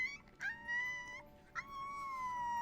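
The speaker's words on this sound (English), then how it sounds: "Like wolves, Malamutes communicate with howls." Alaskan Malamutes howl in long, wavering tones, two or three voices overlapping and rising in pitch, fairly close and clear against a quiet background.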